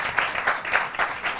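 Audience applause for a high school team at a school quiz contest in Senegal, a short burst of dense clapping with a few louder peaks, steady and fairly close.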